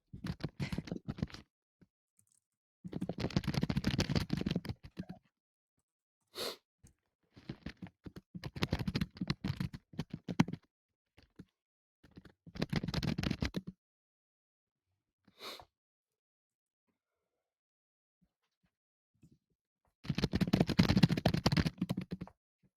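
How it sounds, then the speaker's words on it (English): Loud clacking from typing on a mechanical keyboard comes in separate bursts of rapid keystrokes, each a few seconds long, with silent pauses in between. "he has a mechanical keyboard and he types so loud"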